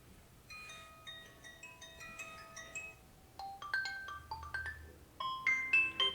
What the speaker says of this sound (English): tap on the ringtone and you'll hear a preview about it